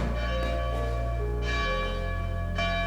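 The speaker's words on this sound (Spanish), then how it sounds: "Estas serían las mismas campanas" Church bells in the tower of an old abandoned 1901 school boarding house ring out in clear repeated strikes, each tone leaving a long humming decay over a steady low background.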